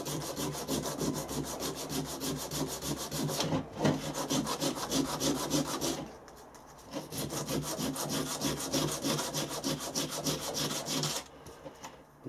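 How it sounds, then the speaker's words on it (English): Steady back-and-forth sanding of soft body filler on a bronze casting pattern, a close, continuous rasping scrape with two brief pauses and no talk. "This body filler is quite soft, it's easy to sand."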